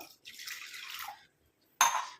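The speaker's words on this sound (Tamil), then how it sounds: "ஒரு முக்கால் டம்ளர் அளவுக்கு நார்மல் வாட்டர் வந்து இதில் சேர்த்துக்கலாம்" Water is poured into an iron pan in a short splashing stream, stops briefly, then a second hissing splash starts near the end.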